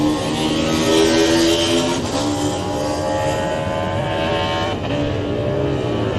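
Classic racing motorcycles, including a Greenall Racing Honda, at the Classic TT Superbike race, a loud sustained engine roar with rising and falling pitch as bikes pass close, one machine's revs shifting sharply mid-way.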